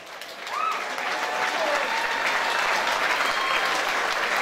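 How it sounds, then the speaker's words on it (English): A crowd at a combat-sports fight night applauds the fighters. The clapping is dense and sustained after a brief quieter start, with a faint whistle or voice rising over it early on. "Big round of applause from Preston, representing Preston Reps, Adrian Haladin."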